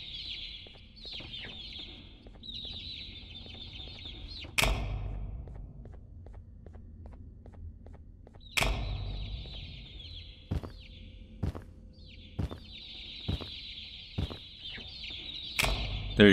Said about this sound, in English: Oh, you gotta capture the birds.